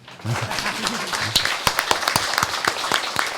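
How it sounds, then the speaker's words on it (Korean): An audience at a Korean civic speech by a mayor breaks into applause. The clapping builds from a murmur into a steady, fairly close patter of many hands, with a brief voice at the start. "박수 한번 안 치십니까 여러분?"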